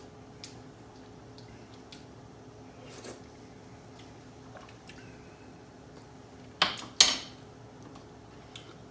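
A metal spoon stirs homemade Italian meatball sauce in a pot, with two sharp clanks against the pot close together near the end over a quiet, steady kitchen hum.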